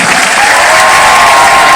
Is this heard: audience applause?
yes